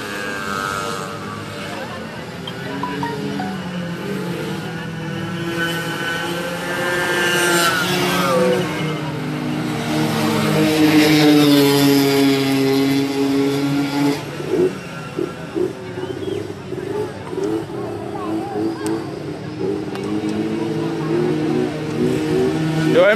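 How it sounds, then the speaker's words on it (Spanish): Honda CG 200 novice-class gasoline racing motorcycle revving on a track, its engine rising and falling in pitch as it passes, heard under steady commentary from an announcer. "Ese motor está rápido, rápido. CG Novato, categoría 200,"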